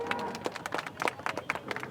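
Applause from a crowd of protesting students at a rally and press conference, a short run of scattered, uneven claps at close range.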